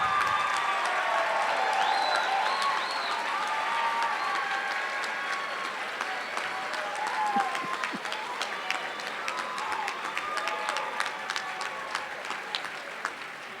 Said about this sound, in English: show you our gratitude with a loud round of applause